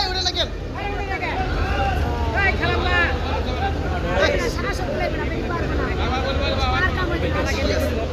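Crowded passenger launch Pubali 7 on the Bhandaria–Pirojpur river route, a steady engine rumble and water wash beneath continuous close babble of many passengers talking.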